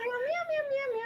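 A person sings a drawn-out meow, imitating a cat with a rising and falling wavering tone, loud and close, lasting about a second.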